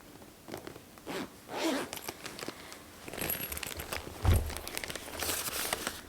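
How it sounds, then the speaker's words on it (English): A zipper on a knitting project bag tugged and catching, several short rasping zip pulls mixed with fabric rustle and crinkling, close and fairly quiet with no speech. "I think I got it caught in the zipper"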